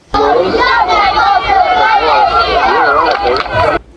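A crowd at a cheerleading competition yells and cheers, a loud, close mass of voices that starts abruptly, stays dense and steady, then cuts off sharply near the end.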